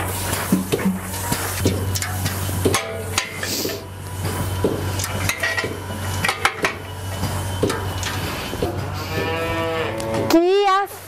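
Dairy cows in a milking barn, a loud drawn-out moo near the end over a steady mechanical hum, with clanking metal, knocks and scattered barn activity throughout.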